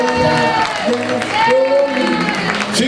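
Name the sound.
round of applause at a live concert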